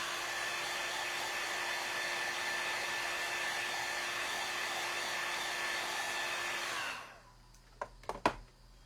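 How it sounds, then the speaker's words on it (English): A hair dryer blows steadily and loudly for about seven seconds to dry fresh paint, a constant whooshing hum with a steady whine, then cuts off, leaving a few small clicks and taps. "Just drying it real quick"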